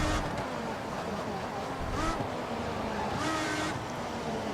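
A race car engine from the F1 2014 video game drones steadily on a qualifying lap at Canada. A high, sustained whine rises and falls with gear shifts over a constant rumble.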